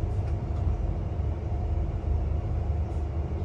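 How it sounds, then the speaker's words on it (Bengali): Dibrugarh–New Delhi Rajdhani Express pulling into Harmuti Junction late at night, a steady low rolling rumble of the train throughout, with no talking. "আমাদের ট্রেন এই মুহূর্তে এসে পৌঁছালো হারমুটি জংশন।"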